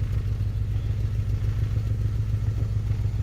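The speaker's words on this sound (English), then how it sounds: "Hear that misfire?" A 2002 Chevy Impala with the 3.4 engine idles rough with a random cylinder misfire, giving a steady low, uneven rumble with a faint irregular stumble running throughout.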